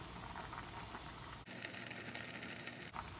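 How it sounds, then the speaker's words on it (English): Bacon fat and bouillon broth boil in a pot, giving a steady, even bubbling hiss that holds at a moderate level with no voices. "the bacon fat has melted, and just gonna let that continue to boil"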